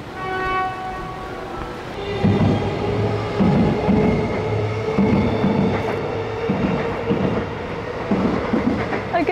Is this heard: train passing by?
yes